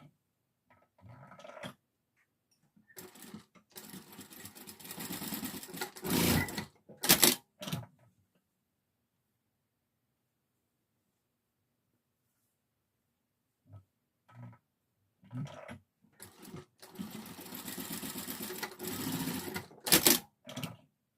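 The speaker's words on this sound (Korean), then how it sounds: "이거는 중심을 박는 게 아니라 양쪽에 끝에만 박음질 해주세요." Sewing machine stitching only the two ends of a piece of fabric for a traditional Korean child's bonnet, in two separate bursts of fast mechanical clatter with a long silent pause between them.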